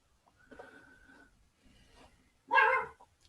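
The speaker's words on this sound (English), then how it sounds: "there's my dog, right on time. I hear him." A dog barks from another room, a short whimpering yip early on, then one loud sharp bark near the end after a quiet stretch, heard alone without talk.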